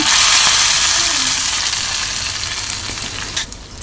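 Mustard seeds and curry leaves sizzle loudly in hot oil as a tempering for Udupi hotel-style sambar, a steady dense frying hiss that slowly eases toward the end, with no voices.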